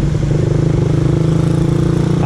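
A Suzuki Raider R150 Fi motorcycle in a low gear while filtering through traffic, its engine putting out a loud, close, steady throbbing drone with a fast even pulse that holds without a break.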